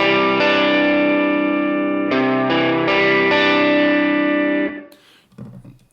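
Electric guitar through a Vox amp model with a Sennheiser MD421 mic simulation rings out in a few sustained strummed chords, close and clear, then cuts off into quiet handling noise.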